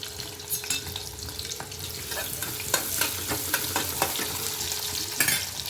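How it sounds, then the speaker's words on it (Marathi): Onion fries in hot oil with cumin and mustard seeds and curry leaves for Bhogi bhaji, a dense continuous crackling sizzle close by, punctuated by quick spatula stirs and scrapes. "आता जिरं राई टाकलेली आहे आणि आता आपण हा कांदा टाकणार आहोत"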